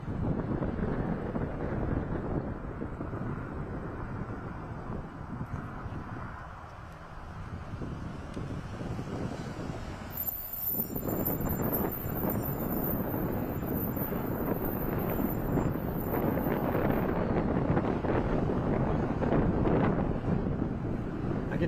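Strong, steady wind buffets the microphone outdoors in a Walmart parking lot, a loud continuous roar with gusty surges throughout and no other clear sounds.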